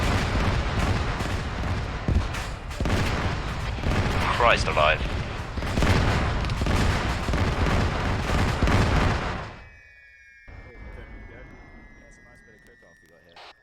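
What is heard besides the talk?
ammo dump missiles exploding, from video game ArmA 3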